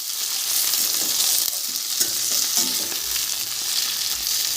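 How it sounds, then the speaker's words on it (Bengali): Onions, tomatoes and green chillies fry in a pan for a Bengali ridge gourd curry, giving a steady, close hiss of sizzling oil with faint stirring scrapes beneath. "হালকা একটু নাড়াচাড়া করে ঝিঙেটা দিয়ে দেব।"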